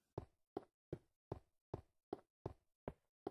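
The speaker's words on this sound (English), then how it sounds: "I can hear a zombie on a door." A zombie bangs on a wooden door in Minecraft, eight evenly spaced heavy knocks landing roughly every third of a second, loud and dry with no voices.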